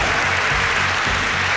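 An audience at a Taiwanese strongman competition applauds, a dense, steady wash of clapping from a large crowd filling the hall without pause.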